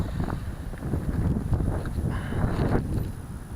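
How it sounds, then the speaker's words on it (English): Strong wind buffets the microphone outdoors in a continuous, rough rumble that swells and eases slightly throughout, with no voices. "And this windy, all this wind."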